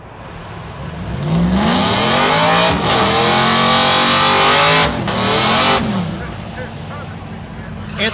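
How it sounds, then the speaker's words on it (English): A Pontiac GTO and a Chevrolet Trailblazer launch side by side in a drag race at Thunder Valley in Noble, Oklahoma, engines revving hard and roaring loudly with a couple of shifts, then fading as the cars pull away. "At the stripe, the GTO 1163. Right lane, 1418 for the Trailblazer."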